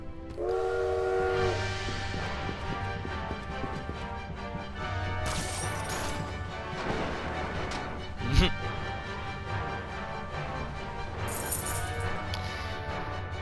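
A train rumbles through a level of Bloodstained: Ritual of the Night, a steady loud mechanical drone with a horn-like tone at the start, a sharp crash near the middle and bursts of hiss, with no talk.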